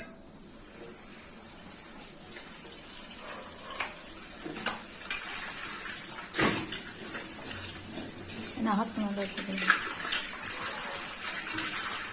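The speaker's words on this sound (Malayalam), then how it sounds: "പാത്രം കഴുകണം" Clinking dishes and cutlery knock and rattle intermittently, with sharp metallic taps and splashing water, growing busier toward the end.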